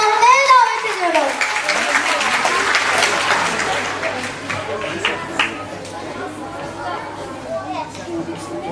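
An audience at a 2012 summer-activities award ceremony breaks into applause, strongest at the start and then thinning into scattered claps and chatter, with a voice heard over the start.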